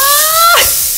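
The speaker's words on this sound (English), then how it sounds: "The sizzle, right?" Raw chicken breast pieces lowered into a hot cast iron skillet, answered by a sudden sustained hiss of sizzling fat, steady and close with no talking over it.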